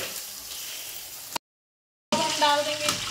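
Potatoes hit a pan of cumin for winter poha and sizzle close and fairly loud, briefly cut by a moment of total silence before the frying resumes with stirring, and a voice speaks at times.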